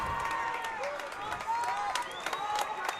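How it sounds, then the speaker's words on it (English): Fans at a night high school football game between Mena Bearcats and DeQueen Leopards cheer and clap, a sustained crowd noise with whistles and shouts under an announcer's voice. "Crowd is on their feet."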